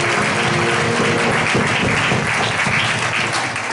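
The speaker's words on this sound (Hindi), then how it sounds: "एक बार जोरदार यीशु मसीह के ताली बजाएं।" A church congregation claps together in sustained applause at a worship service, dense and loud, holding steady for several seconds.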